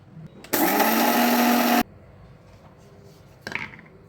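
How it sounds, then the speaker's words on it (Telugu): A kitchen mixer grinder powders sugar with cardamom in one loud, steady whirring burst of just over a second, followed by quiet and a brief rattle of the jar. "ఇప్పుడు ఒక మిక్సీలో పంచదార పొడి చేసుకొని పెట్టుకుందాం"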